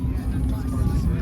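A naturally aspirated V12 in an Aston Martin Rapide AMR at a modded car meet in Detroit gives a loud, steady, deep rumble close by, with crowd babble and voices mixed in throughout.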